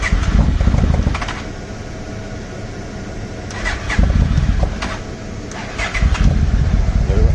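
A 1996 Yamaha Royal Star Tour Classic motorcycle, a garage find, idles roughly and loudly up close, with a steady low rumble and several surging bursts of rising throttle.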